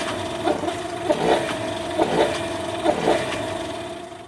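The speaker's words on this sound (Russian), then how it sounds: "Двигатель прогрет. Теперь он у нас чихает только при резком сбросе газа." A warmed-up 2020 Yamaha outboard motor runs steadily at idle with a low, even hum, broken by a few soft sputters and surges about once a second.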